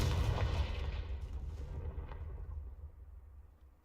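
A Confringo spell blast in the video game Hogwarts Legacy, a loud fiery explosion that booms and then rumbles and fades away over several seconds, heard alone.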